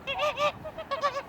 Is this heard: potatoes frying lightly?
no